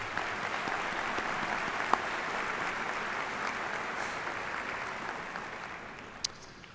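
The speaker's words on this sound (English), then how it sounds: "Let's give them a round of applause." Sustained audience applause fills a large hall at a high school commencement, steady and even throughout with a couple of sharper claps standing out.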